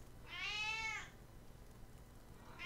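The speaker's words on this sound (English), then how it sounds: "give us 25 meows" A house cat lets out one clear, fairly faint meow over a low steady background hum, and a second meow begins just as the sound cuts off.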